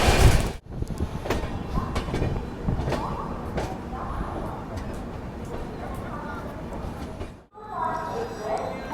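Express train running on rails with steady rumbling and clickety-clack, a passing train crossing close by in a loud sustained roar, then an abrupt cut to quieter carriage sound; someone talks over it.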